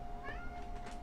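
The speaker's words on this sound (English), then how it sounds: "My cat came to join us." A pet cat in a Trick and Treat visual novel gives a single short, close meow over a faint steady hum.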